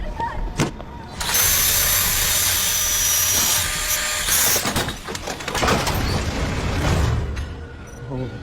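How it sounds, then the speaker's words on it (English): A power tool grinder whirring loudly close by in an action film scene, a sustained harsh whine for several seconds with a second burst later, mixed with shouting and commotion. "I got a grinder."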